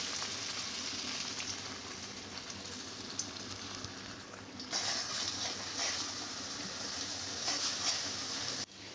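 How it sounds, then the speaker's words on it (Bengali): Ground spice paste fries in hot oil in a wok, a dense, steady crackling sizzle that holds close and loud throughout, swelling with brighter spatters in the second half. "দিয়ে মশলাটাকে আমি সামান্য একটু ভেজে নেব"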